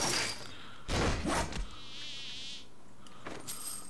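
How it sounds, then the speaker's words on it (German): Buzzing bees in the video game Riders of Icarus, a wavering insect drone swelling for about a second between louder thumps and noise bursts, with game ambience around it. "Ah, ich sehe die Bienenkönigin."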